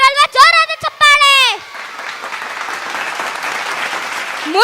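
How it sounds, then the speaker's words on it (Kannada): A crowd of schoolchildren and parents applauds loudly after a children's dance at a school Kannada Rajyotsava celebration, a steady clapping roar lasting several seconds that follows a brief burst of voices. "ಜೋರಾದ ಚಪ್ಪಾಳೆ"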